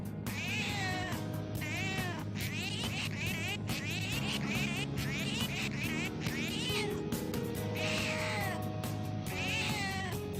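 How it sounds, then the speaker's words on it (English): Repeated cat meows from the Persona 5 Royal video game, clear and fairly steady over several seconds above a constant background music bed, with no talk. "You can make cat noises?"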